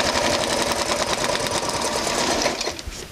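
A sewing machine stitches a seam on a homemade tuna cooler fish bag, a fast steady mechanical rattle close up, running continuously before slowing near the end.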